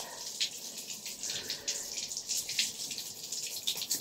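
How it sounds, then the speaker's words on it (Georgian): Cold water runs from a tap for washing, a steady hiss with small splashing fluctuations, close and moderately loud, without speech. "მე დავიბანკე. როგორ მეზარება ცივი წყლით."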